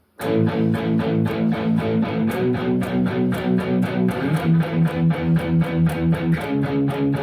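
Palm-muted electric guitar power chords chug in a steady eighth-note rhythm, shifting chord every few seconds, tight and punchy with no voices.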